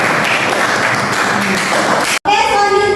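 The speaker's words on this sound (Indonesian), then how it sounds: "beri aplaus untuk kelompok 2" Applause for a student group in a classroom: a crowd of students claps steadily and densely, the sound cutting off abruptly near the end.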